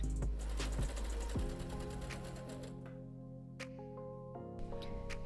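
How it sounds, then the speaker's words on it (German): Sewing machine running a seam on a midi skirt right into the point, stitching to the very tip so the last stitch lands off the fabric; a close, steady mechanical whir with a brief stop and restart, no talking. "nähen jetzt einmal bis in die Spitze rein, sodass der letzte Stich außerhalb unseres Stoffes endet"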